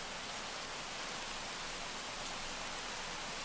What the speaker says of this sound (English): Ooh, a nice rain background in this recording.